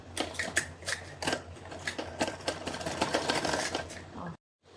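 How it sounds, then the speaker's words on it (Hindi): A sewing machine runs a close seam along the edge of an A-line suit, a fairly faint rapid clatter of the needle with fabric handling noises, stopping abruptly near the end. "अलग करने के बाद बिल्कुल किनारे की सिलाई लगाऊंगी यहाँ पर"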